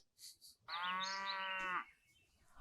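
A single long cow moo from a South Park cartoon scene, loud and sustained for about a second, preceded and followed by quiet background noise.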